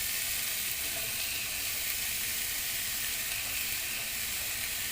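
Frozen peas and cabbage hiss loudly in a hot pan of vegetable fried rice, a dense, even sizzle that holds steady for the whole stretch with no talk over it.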